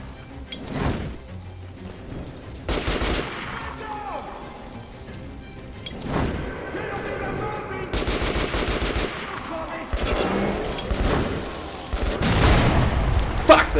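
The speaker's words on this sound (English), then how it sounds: "Fuck, they got me with a grenade." A grenade blast and bursts of rapid automatic gunfire in the shooter game Metro Last Light Redux, loud and dense throughout, with booming impacts and a voice talking over the fighting.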